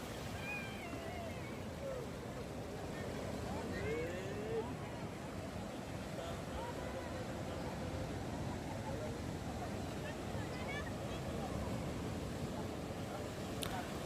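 Sea waves washing onto Puri beach as small fishing boats come ashore, giving a continuous surf roar with a busy outdoor background and faint distant voices.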